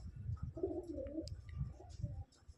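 Pigeons coo softly in low, rolling murmurs, close by, with a few faint chirps and rustles around them.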